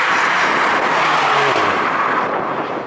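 Mercedes-AMG A45 with a 2-litre single-turbo engine and four-wheel drive, exhaust valve set quiet, droning steadily under acceleration with broadband road and wind roar, no talking.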